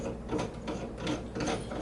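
A clamp on the side of an Anova Precision sous vide cooker is fastened onto a 12-quart Rubbermaid plastic container, giving a few close, brief plastic clicks and rubbing scrapes in quick succession.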